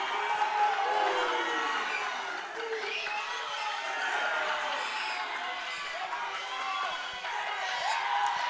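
Weightlifting competition crowd cheering and shouting for a woman lifter at a national open meet, a steady loud roar of many voices throughout.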